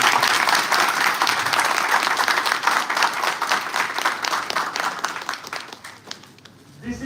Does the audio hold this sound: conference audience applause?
yes